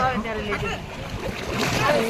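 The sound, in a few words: water splashing as people bathe in the Gomti river at the ghat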